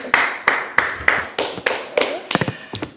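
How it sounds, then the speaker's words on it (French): A small church congregation claps in short, uneven bursts, a handful of close, sharp hand claps speeding up briefly before tapering off. "Applaudissons d'abord pour lui pour la question."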